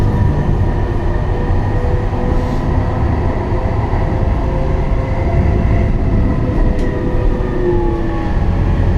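A Siemens S70 tram rumbles past nearby in Charlotte, a steady loud rolling hum with faint high squeals from the rails, no voices.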